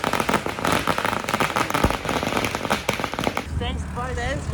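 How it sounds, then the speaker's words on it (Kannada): Firecrackers set off on a night in Hassan, a dense loud run of crackling pops and bangs that fades near the end, with people talking over the noise. "ಹಚ್ಚೋಣ ಪಟಾಕಿ ಹಚ್ಚೋಣ. ನಾವು ಹೋಗ್ತಿದೀವಿ ಅಂತ ಪಟಾಕಿ ಹಚ್ಚೋಣ."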